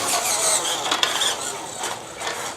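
WPL C24 RC toy truck driving and turning, a small electric motor whining with gear rattle that rises and eases across a short close run.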